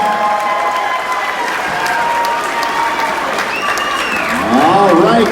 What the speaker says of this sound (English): how about a round of applause for these dancers?